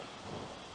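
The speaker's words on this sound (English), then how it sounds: "So that's thunder." Thunder during a storm that brought sun, hail and rain, heard as a brief, dense low rumble under a wash of rain noise, steady and fairly faint.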